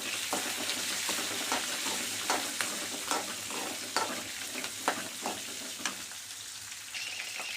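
Onions and tomatoes frying in a pan for kara kuzhambu: a dense, quiet sizzle broken by repeated stirring clatters and scrapes at irregular intervals, close up, with no speech.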